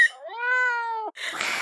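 A domestic cat gives one clear, close meow with a rising then level tone lasting about a second, followed by a short burst of breathy noise.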